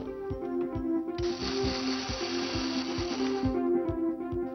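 Wet grinder working soaked dal and rice with their soaking water into thick idli batter, a steady motor hum with a regular rhythmic knocking and a louder gritty swell through the middle.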